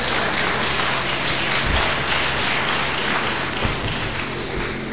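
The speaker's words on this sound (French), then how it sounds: "je vous demande une dernière fois d'applaudir le conférencier," An audience at a philosophy lecture applauds the speaker with sustained, dense clapping that stays steady and fairly loud from start to finish.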